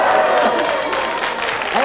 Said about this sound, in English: They're applauding as though there's a bit of trade in the audience